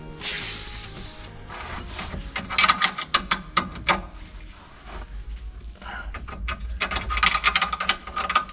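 A ratchet tightens a 22 mm nut on a Volkswagen Golf 4, with bursts of rapid metallic clicking in several separate runs, close and clear, and some brief speech in between.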